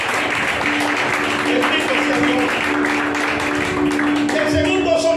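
A church congregation claps and cheers in a dense, steady round of applause, with a voice speaking over it.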